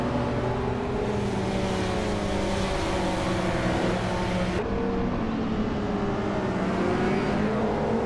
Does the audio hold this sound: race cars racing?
yes